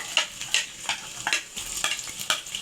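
Finely chopped onions frying in a pan for an aloo matar kaleji curry, a steady sizzle broken by repeated scraping strokes of a spoon stirring, close and fairly loud with no talking.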